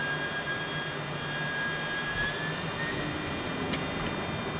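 Air France Boeing 747 jet engines spooling on the takeoff roll from runway 27 left, a steady broadband roar with a faint rising whine, heard from inside the cockpit.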